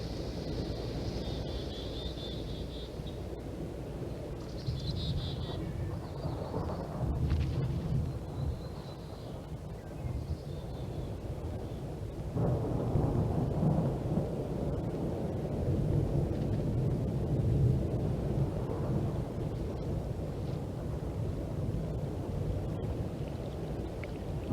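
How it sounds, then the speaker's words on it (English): A thunderstorm in the wild, with low rumbling thunder rolling in the near distance under a steady roar of wind and rain, building and swelling over a long continuous stretch. "The winds rose, thunder rumbled in the near distance"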